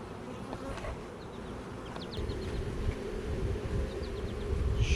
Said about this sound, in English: There's just so many bees here.